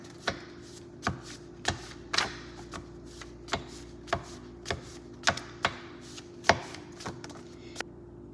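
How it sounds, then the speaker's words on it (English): A deck of tarot cards being cut and shuffled, giving sharp, evenly spaced taps and snaps about every half second, close and fairly quiet, over a low steady background hum. "as I was shuffling your cards"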